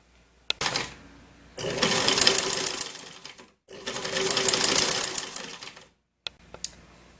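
Sewing machine stitching fabric for a jumpsuit, two bursts of fast whirring stitching separated by a brief pause, with small clicks before and after, close and clear.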